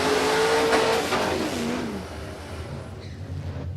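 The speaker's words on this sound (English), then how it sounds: "A lot of revs on board in that burnout for Trevor Keel as well." A supercharged small-block WB Ute drag car does a burnout at a dragway, its engine revving hard and loud at first, then easing off and fading as the car moves away.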